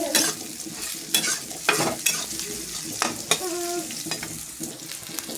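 Food sizzles in a hot pan while chickpeas are being pan-roasted for chhola bhuna, with a spatula scraping and stirring in bursts over a steady crackling hiss and no voices.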